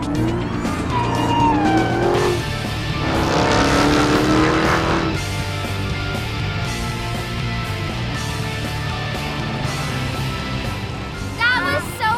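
Car driven hard by a professional driver, tires skidding and squealing in long wavering screeches over a loud engine roar, close by, with people talking over it.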